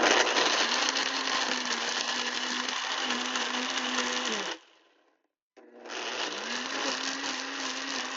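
A blender whirs loudly as it pulverizes damp vanilla beans for vanilla paste, a steady high motor drone that cuts out for about a second, then starts again and runs on.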